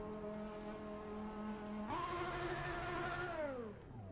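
A car engine holds steady at high revs and then climbs in pitch as the clutch is let out, a loud buzzy drone throughout with no talking.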